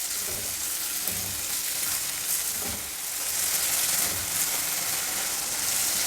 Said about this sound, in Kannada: ಈಗ ಈರುಳ್ಳಿ ಬಟಾಣಿ ಎಲ್ಲ ಚೆನ್ನಾಗಿ ಫ್ರೈ ಆಗಿದೆ.